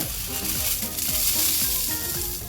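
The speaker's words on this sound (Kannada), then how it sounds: "ಈಗ ಸ್ವಲ್ಪ ಬಿಸಿ ಮಾಡ್ತಾಯಿದ್ದೀನಿ ಈ ಥರ ಬಿಸಿ ಮಾಡ್ಕೊಳ್ಳೋದ್ರಿಂದ ಚೆನ್ನಾಗಿ ಪುಡಿಯಾಗುತ್ತೆ ಅಂತ ಹೇಳಿ ನೋಡಿ ಎಷ್ಟು ಚೆನ್ನಾಗಿ ಸೌಂಡ್ ಬರ್ತಾಯಿದೆ" Dried detox powder ingredients roast in a hot pan, giving a steady, close crackling sizzle with scraping stirs, alone and without talk.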